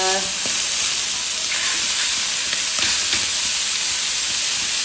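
Turmeric goes into a hot pan in a home kitchen, and a loud, steady sizzle and hiss fills the whole stretch with a few faint scraping touches. A voice is heard only faintly.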